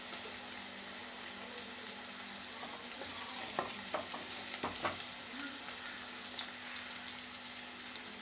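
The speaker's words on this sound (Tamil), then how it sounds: "இதெல்லாம் சேர்ந்து நல்லா வதங்கட்டும்" Green chilies and curry leaves frying in a pan for Kerala-style fish curry, a quiet steady sizzle with a few brief scrapes and clicks of stirring near the middle.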